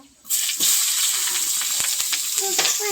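Onions and chilies hit hot oil in a pan with a sudden loud sizzle that holds steady and close, with a few stirring clinks and faint voices underneath.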